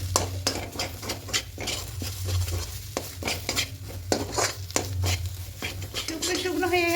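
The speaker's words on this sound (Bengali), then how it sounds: "দিয়ে খুব ভালো করে মিশিয়ে এটা শুকনো শুকনো করে নেব।" Pea filling with roasted gram flour being stirred in a pan, a run of sharp utensil scrapes and taps at an uneven, busy rhythm over a low background hum, close and moderately loud.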